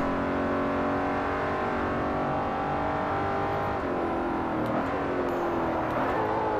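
Simulated car engine from the racing game Forza Motorsport 4, a Cayenne Turbo versus X5M challenge, revving high and steady with a rising whine, then a downshift that over-revs briefly near the end.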